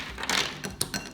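Starburst candies dropping onto kitchen dishes give a few quick light clinks and clatters in close succession, near and fairly quiet.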